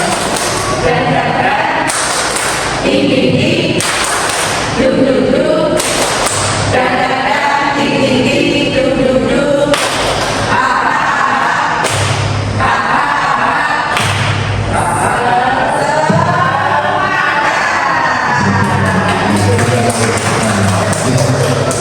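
A group at a school positive-culture event performs the rhythmic 'tepuk semangat' clap: loud, close bursts of patterned clapping repeat across about twenty seconds, with voices chanting or talking between and under the claps.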